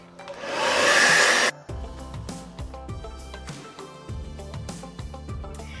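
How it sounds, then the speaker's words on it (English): A hair dryer on low heat, drying a linen chair, whooshes steadily for about a second and a half, then cuts off, leaving background music playing. "So I'm going to be taking my hair dryer and using low heat and just dry it quickly"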